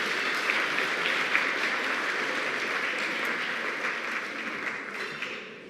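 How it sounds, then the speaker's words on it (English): Dinner guests applauding at a speech event, a dense crowd clapping that holds steady for several seconds and then slowly tapers off, with no talk over it. "Let's give another round of applause."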